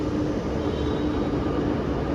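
A Chennai metro train arrives at the platform early in the morning, producing a steady, loud rumble with no talk over it.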